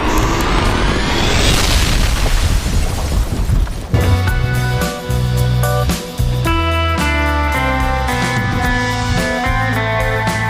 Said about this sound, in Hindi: इस जगह को भी बम से उड़ा देता है